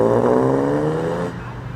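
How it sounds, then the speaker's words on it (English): A Jaguar E-Type six-cylinder engine idles close by at a breakfast car meet, running roughly with an uneven, steady throb, then drops slightly in level near the end. "So, not all 6 cylinders may be singing in unity there"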